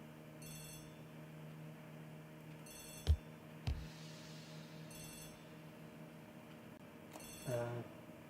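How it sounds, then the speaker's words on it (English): Telephone bell ringing in a hall, sounding in repeated short bursts of trilling rings with pauses between them, moderately distant, alongside a couple of sharp knocks and a low hum. "The telephone in the hall is ringing."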